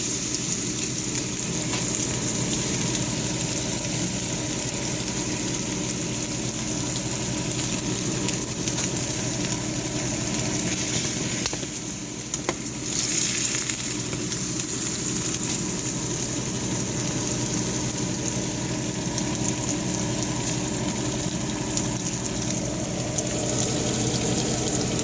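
Steak pan-frying for medium doneness sizzles loudly and steadily in a hot pan, a dense, unbroken hiss and crackle that runs without pause and with no talking.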